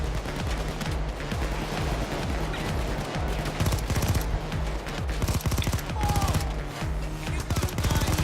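Rapid, sustained automatic gunfire in Payday 2 on the Firestarter heist, a dense, loud rattle of shots that continues throughout with brief gaps.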